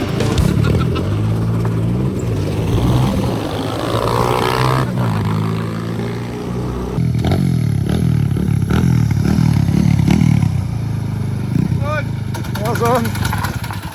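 A cheap go-kart's small engine runs steadily close by, its buzzing drone rising and falling as it pulls away slowly, with voices talking over it at times.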